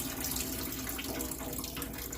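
A kitchen tap runs steadily while rice is rinsed, a continuous close splashing hiss of water in a bowl or sink with no voices.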